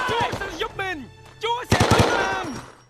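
Machine gun nests fire in Men of Valor as bursts of rapid gunfire break out between stretches of voiced game dialogue. The shots are loud and close, with a dense rattling volley near the end.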